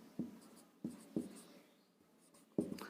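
A teacher writing on a board during a history class, heard as a handful of short, sharp tapping and scraping strokes spaced irregularly, close and fairly quiet, with no talk over them.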